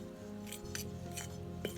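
Light clinks of a utensil against a bowl sound a few times in quick succession as ingredients for saltfish fritters are stirred, close and soft over a low steady background hum.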